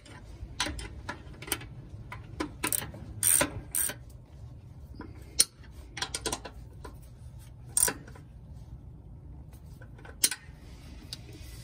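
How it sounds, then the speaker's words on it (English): A ratchet wrench tightens bump stop bolts on an RV during a Sumo Springs install, clicking in repeated bursts with short pauses over a low steady background hum. "a ratchet wrench."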